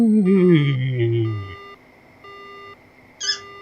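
Phone line cutting off in the horror video game Death Mark: a descending tone sweep and fading hum, then short repeated electronic beeps of a dead line, closing with a brighter chime.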